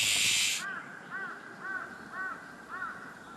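A large-billed crow gives five evenly spaced, clear caws that ring out one after another, with a brief burst of hiss before the first call.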